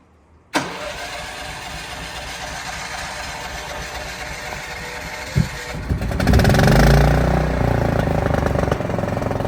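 After a sharp click, a portable generator that has just been repaired cranks, catches and runs with a steady mid-pitched engine drone, then gets louder and rougher after a thump near the end.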